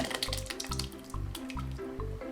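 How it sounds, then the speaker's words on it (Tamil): Lentil cooking water poured into a shallot sambar, a steady liquid splashing and trickling with low bubbling pulses, close and fairly quiet, no talk. "இப்போ பருப்பு தண்ணி ஊற்றிட்டு ஒரு மூணு நாலு நிமிஷம் நல்லா கொதிக்க வச்சுட்டு இறக்கி வச்சுக்கலாங்க"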